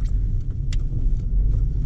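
A lifted Ford Ranger rolls along a snow-covered road with traction control off, giving a steady, close, low engine and tire rumble that holds even throughout.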